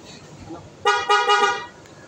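Two short, loud honks of the stock horn on a 2021 Yamaha Mio i 125 scooter in quick succession, a bright buzzing tone close to the microphone, after a quiet idle.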